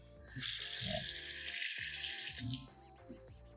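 Water drains from a sink-type water purifier filter during a filter change, a short close hiss and splash of running water with small rattling knocks, with no talking.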